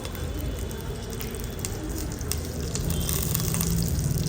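Cumin and mustard seeds sizzle steadily in a tablespoon of hot oil while cooking a vankaya (eggplant) masala. The crackling hiss is close and continuous and grows slightly louder toward the end.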